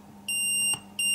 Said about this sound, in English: Again, you can hear the beep